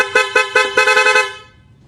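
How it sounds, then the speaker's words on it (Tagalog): A loud, brassy aftermarket motorcycle horn on a Suzuki Raider FI honks in a rapid string of about six short blasts, then trails off into quiet. "Ito yung loud horn."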